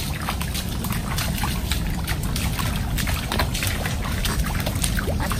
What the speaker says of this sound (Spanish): es mejor caminar aquí por la corrientilla de agua